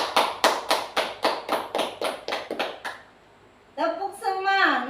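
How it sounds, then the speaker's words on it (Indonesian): About ten loud, evenly spaced group claps at a school gathering on positive school culture, followed by a pause and then a voice speaking. "Aplaus buat kita semua."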